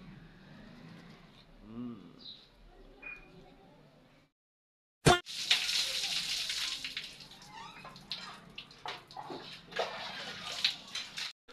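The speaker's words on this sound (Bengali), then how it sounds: "তো এখন গাইস ব্রাশটা করবো, দেখো।" Tooth brushing with a tap running: after a quiet stretch with a faint voice, a sudden loud gush of running water starts and continues with splashing and brushing scrapes close by.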